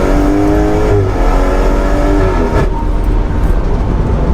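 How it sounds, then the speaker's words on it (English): A tuned 510 bhp BMW M240i roars steadily at close range on a race track, its pitch rising and dropping as it accelerates and shifts near 100 mph, with a constant rumble throughout. "But I absolutely love how those BMWs sound."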